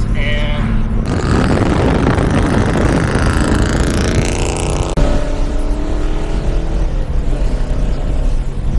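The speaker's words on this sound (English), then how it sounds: "Brady just got his new exhaust" A car with a newly fitted aftermarket exhaust roars loudly and continuously, revving near and dominating the scene, with voices talking faintly underneath.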